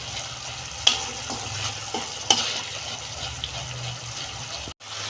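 Spice paste sizzles in oil in a pan while being stirred for a green bean dish, a steady close crackle broken by a few sharp spoon clanks against the pan.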